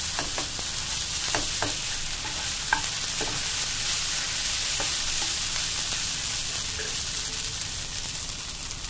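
Sabudana khichdi sizzles steadily as it fries in a pan, with repeated spoon scrapes and stirring clinks on top of the constant hiss, close and fairly loud, with no speech.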